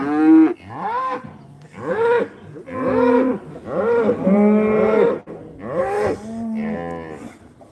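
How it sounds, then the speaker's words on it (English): Cattle being sorted through a gate at a pinkeye doctoring gather moo repeatedly, several loud, close, drawn-out calls, one after another with short gaps and no talking. "These first couple cows can go in if they come in."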